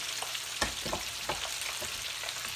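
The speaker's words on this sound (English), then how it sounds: "I think I'll get 4 ribs in my fryer here" Pork finger ribs frying in a deep fryer give a steady, dense sizzle of hot oil, with a few sharper pops and clatters rising over the continuous crackle.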